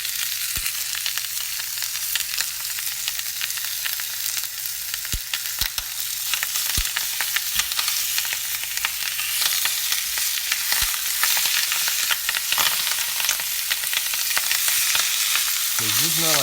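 Salted pork seared in a pan gives a loud, constant hiss of frying fat with scattered crackles and pops, close up and steady throughout, no talking.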